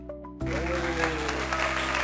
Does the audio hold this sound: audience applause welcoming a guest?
yes